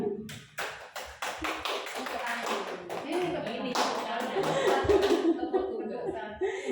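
A group in a teacher training session claps in a patterned sequence, sharp hand claps in quick bursts mixed with laughter and voices talking over them.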